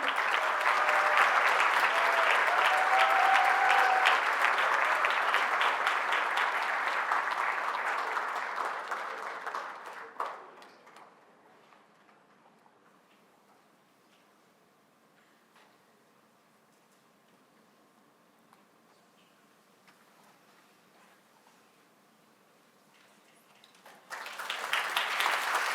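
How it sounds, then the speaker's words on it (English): Audience at a commencement ceremony applauding, loud sustained clapping for about ten seconds that fades into a long quiet stretch of faint ticks and rustles, then bursts back into applause at the very end. "let's do another round of applause for our two outstanding students"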